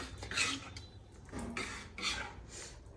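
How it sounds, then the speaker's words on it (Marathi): A spoon scraping and stirring cooked bhagar in a metal pot, in several distinct bursts of scraping separated by short pauses, close by and with no talk. "आता याला आपण याच्यामध्ये व्यवस्थित पद्धतीने एकदा मिक्स करून घेऊया"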